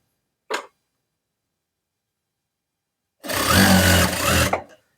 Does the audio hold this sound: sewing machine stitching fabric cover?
yes